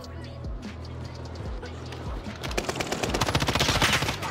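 Rapid automatic rifle fire from a video game shooter, one of a pair of assault rifles, rattling in dense bursts that build and grow louder toward the end, with scattered shots before and a voice talking over it.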